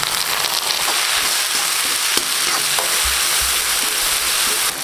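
Tomatoes frying with onions in a pan for a brinjal and dry fish curry, giving a steady, bright sizzle throughout with a few soft stirring knocks.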